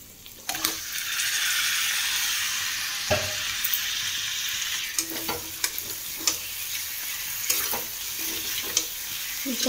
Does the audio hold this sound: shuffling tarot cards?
no